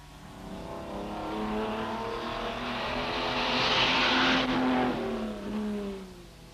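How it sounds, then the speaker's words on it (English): Vintage race cars in the 1964 Tour de France Automobile, including a Mustang and Renault Alpines, roar past on a road, engines rising and falling in pitch as they approach and pass, moderately loud with no voices. "Peter Harper's Mustang using all the road"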